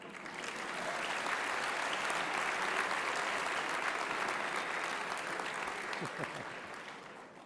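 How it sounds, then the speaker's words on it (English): Large convocation audience gives a sustained round of applause, dense steady clapping filling the hall from start to finish with a few cheers near the end. "let's give them a round of applause"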